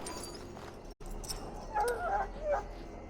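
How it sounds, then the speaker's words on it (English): An injured dog in the video game Dragon Age Origins whimpers and yips in several short, high, wavering cries over faint game background sound after a brief dropout. "Now I can treat the dog properly, poor fella."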